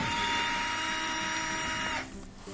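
A corner screw being driven out of a Miele washing machine casing, a steady close whirring drone of a power driver that drops off near the end.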